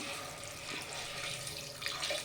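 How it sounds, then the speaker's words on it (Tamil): Water runs steadily into a cooking pot, a continuous splashing rush with no pauses, fairly quiet and close. "இப்போது 1 கிளாஸ் தண்ணி சேர்த்துக்கலாம்."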